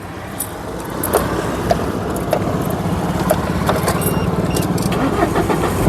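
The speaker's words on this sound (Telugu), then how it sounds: "ఒకసారి ఈ కార్ సింగిల్ సెల్ఫ్లో స్టార్ట్ అవుతుందా లేదా అన్న చూపిస్తున్నాను" A 2016 Mahindra Scorpio S4 Plus SUV engine cranks and catches on a single self-start, then settles into a steady, close and fairly loud idle rumble.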